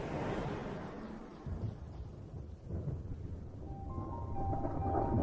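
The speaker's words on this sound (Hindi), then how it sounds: "आसमान बादलों से घिरने लगा है और बिजली भी गरजने लगी है।" Low thunder rumbles on and off as monsoon clouds gather over dry African grassland, a steady wash of rain or wind beneath it and faint tonal sounds entering near the end.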